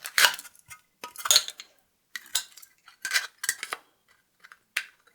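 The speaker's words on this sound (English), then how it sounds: "I've cut tin cans many times with the scissors from my Victorinox" Victorinox Swiss Army knife scissors snipping through thin tin-can sheet metal, a series of short crisp metallic cuts and clinks in irregular bursts with pauses between, close and fairly quiet.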